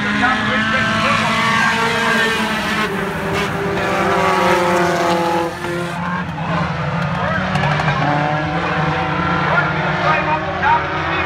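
A Thunder Stocks stock car accelerates on a speedway, its engine roaring loud and rising in pitch with several cars droning together, while a commentator talks over the racket.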